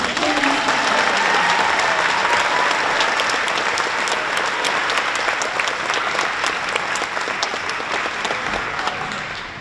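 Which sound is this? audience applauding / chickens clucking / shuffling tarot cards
audience applauding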